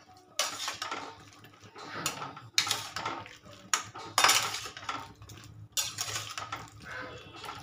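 Mushrooms being stirred in hot water in a metal pot: repeated bursts of scraping and clinking of a utensil against the pot, each stroke a few seconds apart, close and clear with short quiet gaps between.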